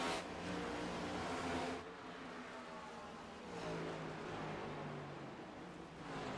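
Race cars accelerating at Phoenix Raceway during an O.B. Builders Cup Series finale, a steady loud roar of engines with rising and falling tones as cars pass, the sound dipping briefly before building again.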